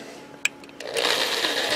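A drill bores into a hard chrome round shaft: a short tap and faint clicks, then a steady, fairly loud high-pitched grinding whir as the bit starts cutting, continuing to the end without speech.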